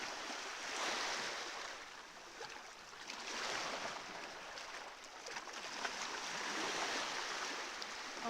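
Waves breaking and washing along the Sardinian coast, a steady broadband roar that swells and eases in slow surges, fairly close and continuous with no voices.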